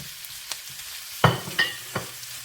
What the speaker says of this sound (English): Next, we will add in our ground beef